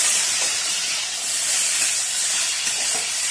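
Pieces of bitter gourd sizzle in hot oil over lowered gas heat, giving a continuous bright frying hiss with no talk.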